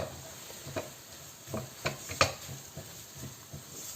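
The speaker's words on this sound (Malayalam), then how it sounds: "ഈ ഉള്ളി കണ്ടോ ഇതുപോലെ നമുക്ക് നല്ലതായിട്ട് ബ്രൗൺ കളർ ആവണമെന്ന് പറഞ്ഞാൽ നിങ്ങൾ ഇളക്കിക്കൊണ്ടിരിക്കണം" Onions stirred and fried until brown in a pan for an Onam puli inji curry, with soft sizzling under repeated scraping stir strokes and a few sharper utensil clicks, close by and moderately quiet.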